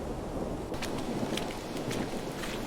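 Heavy rain pours with a low rolling rumble of thunder underneath in a rainy street scene, a dense continuous wash with occasional brighter splashes and no speech.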